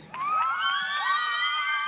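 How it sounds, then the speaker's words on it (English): Cheering crowd at a Light the Night charity walk event in Cincinnati, a dense wall of shouts, whoops and high voices rising suddenly and holding loud and steady. "Another round of applause for Catherine."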